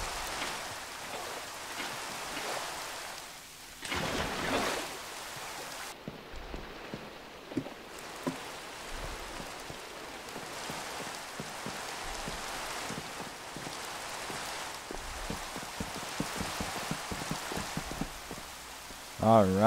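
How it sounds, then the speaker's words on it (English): Rain falls steadily in the Minecraft world, a soft continuous patter and hiss that runs throughout, faint and even, with some brief game clicks and thumps over it. "just why does it always rain?"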